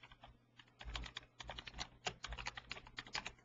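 Rapid, uneven keystrokes on a computer keyboard, close and clear, with short pauses between bursts of typing and no talking.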